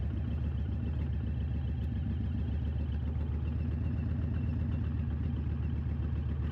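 A Dodge Challenger with FTR1200 hand controls idling with no throttle, a steady low rumbling engine note with a faint clatter, even and continuous, heard close with no talk.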